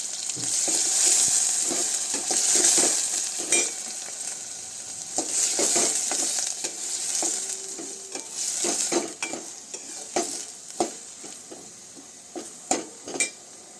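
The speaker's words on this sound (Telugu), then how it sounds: "ఇప్పుడు ఉల్లిపాయలు పచ్చిమిరకాయలు వేస్తున్నానండి. అలాగే ములక్కాడ ముక్కలు కూడా వేస్తున్నాను. ఇప్పుడు బాగా వేపుకోవాలండి." Onions, green chillies and drumstick pieces fry in a pan for a sweet potato, drumstick and brinjal curry, with steady close sizzling broken by repeated stirring scrapes and clinks of a spoon; no voices.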